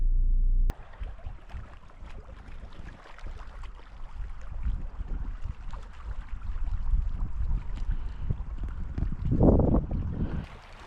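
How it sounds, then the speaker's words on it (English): Gusty wind blows across a lakeside campground during black fly season, making a steady, rumbling roar that buffets the microphone after a brief initial knock. "It's very windy"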